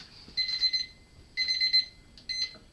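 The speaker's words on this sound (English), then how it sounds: "There's the timer." A timer alarm during home beer brewing gives three bursts of rapid high electronic beeping, each about half a second with short pauses between, clear and close.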